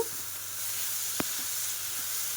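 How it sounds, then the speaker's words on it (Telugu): Cabbage frying with tomatoes in a pan gives a soft, steady sizzle and hiss, with one brief knock of a utensil during mixing and no talk. "టమాటోస్ వేసుకున్నాం కదా ఒక్కసారి మిక్స్ చేసేసుకుందాము"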